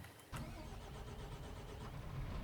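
A Fendt tractor engine from Farming Simulator 22 with custom engine sounds turns over and settles into a steady mid-pitched running drone, close and fairly quiet, with no talking.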